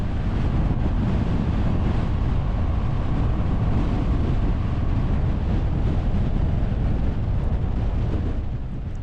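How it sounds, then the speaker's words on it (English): Strong steady wind roars and buffets against a slow-moving van, a continuous loud rumbling rush without breaks that eases slightly at the very end. "I can feel the wind is pushing the van even at this low speed"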